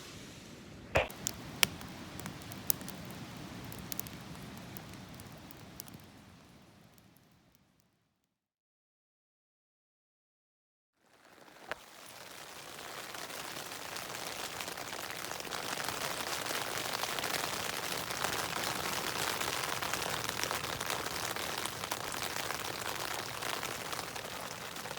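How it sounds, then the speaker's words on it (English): Rain patters on a tent through the night on a backpacking trip along the Manistee River Trail, a steady hiss with a few sharper drips, then a gap of near silence before a heavier, denser shower resumes. "As you can probably hear, it was raining on and off pretty much all night."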